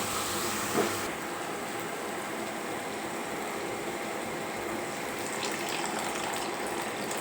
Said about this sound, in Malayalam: നമുക്കിതിലേക്ക് ആവശ്യമായിട്ടുള്ള വെള്ളം ഒഴിച്ചു കൊടുക്കാം